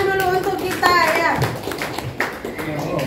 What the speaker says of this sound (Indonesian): tepuk tangan dulu untuk kita ya